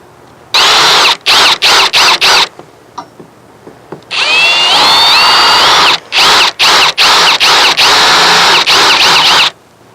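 A power drill bores mounting holes for a stainless steel cleat during an Olsson Mfg ST-275 davit installation, in loud, close bursts of whining motor with one longer sustained run between short repeated pulses.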